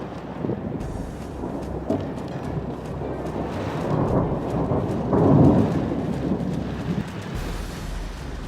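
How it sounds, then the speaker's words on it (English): A June thunderstorm on a mountain loop road brings rumbling thunder that swells and peaks midway over a steady hiss of heavy rain and wind buffeting the microphone, with no voices heard. "A June thunderstorm on the loop road brought heavy snow with it."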